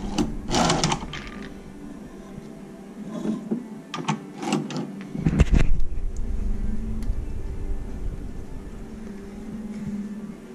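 A Chinese shoe patcher sewing machine runs in short mechanical bursts, its needle clattering close by, then settles into a steady hum with faint ticking.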